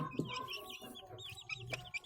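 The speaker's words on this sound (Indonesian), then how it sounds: "Ini ayam." Chickens in a coop cluck and chatter close by in overlapping, irregular calls, with soft shuffling underneath.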